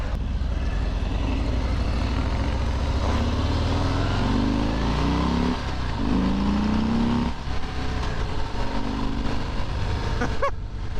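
A Harley-Davidson Fat Bob motorcycle engine roars loudly and steadily while riding, its pitch climbing and falling through repeated revs near the end, with a brief sharp burst as the clip closes.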